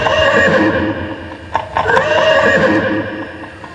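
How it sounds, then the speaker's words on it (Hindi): A thirsty horse neighs in a dense forest, a loud close whinny that rises and falls, with a brief burst of hoof clatter and breathy snorts in the middle, and no talking. "घोड़ा चिल्ला रहा है प्यास के मारे,"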